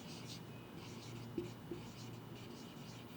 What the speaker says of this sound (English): So we will write here salary to Akila.